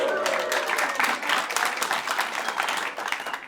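A stand-up comedy audience applauding, dense close clapping that holds steady for a few seconds before thinning out.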